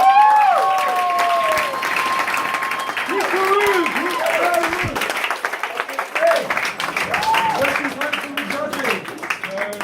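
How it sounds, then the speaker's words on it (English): An audience at a Startup Weekend pitch event in London bursts into sustained applause after a co-living platform pitch, dense loud clapping lasting several seconds with a voice speaking over it. "Huge round of applause for her!"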